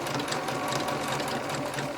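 A sewing machine stitches a seam on a shirtwaist, its needle chattering in a fast, even, continuous rhythm close by.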